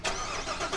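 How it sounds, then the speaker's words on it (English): A Corvette fitted with a throttle controller starts up, giving a brief, close engine catch and turnover that settles toward idle. "Go ahead and start the car up."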